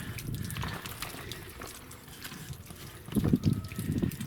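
Water trickles and splashes steadily as it drains from a Suburban Nautilus IW60 water heater, growing a bit louder and more gurgling toward the end, with no voices.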